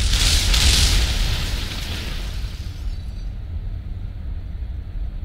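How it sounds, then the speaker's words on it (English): Explosions in the Kerbal Space Program game: a loud deep boom with a roaring burst that fades into a lingering rumble and crackle, alone without talk. "What's that noise? Oh, explosions."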